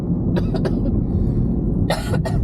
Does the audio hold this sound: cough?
yes